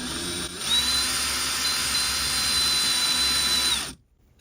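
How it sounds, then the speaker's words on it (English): A power drill with a 7/64 bit bores straight through the wood of a Winnebago Solis Murphy bed, a steady close whine running about three seconds before cutting off into silence. "I'm going to drill right through"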